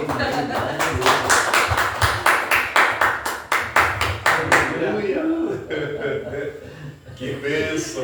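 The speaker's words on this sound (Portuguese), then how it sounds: "Receba ele com a aplauso ao Senhor" Congregation clapping to welcome the apostle at a church service: a steady run of sharp, rhythmic claps for about four seconds, then fading into murmuring voices and talk.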